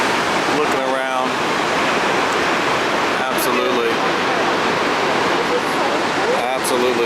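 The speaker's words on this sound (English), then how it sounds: "I don't think I've ever seen a waterfall this big up close" Large lower waterfall in a Jackson Hole canyon, a loud, continuous roar of falling water heard close up, with brief voices talking over it at moments.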